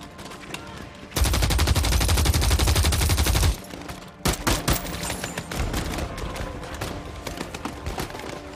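Sustained machine gun fire during a firefight with a sniper: a dense, rapid burst of about two seconds, followed by scattered loud shots and crackling gunfire.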